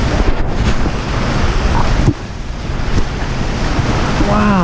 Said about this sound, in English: what is that noise? And it was the wind just kicking in.